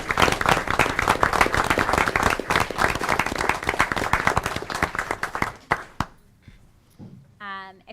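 Audience applause at a school board meeting, dense rapid clapping from a crowd that stays loud for several seconds, then thins into scattered claps and fades, with a voice starting up at the end.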